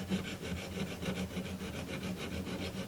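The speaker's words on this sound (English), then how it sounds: "So I'm just going to, with the diamond file," A diamond file rasps a burr off an air rifle rod, with steady close rhythmic rubbing strokes throughout, no talking.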